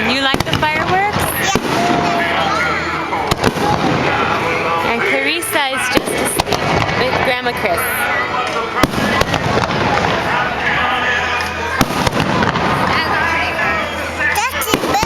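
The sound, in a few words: fireworks exploding at a block party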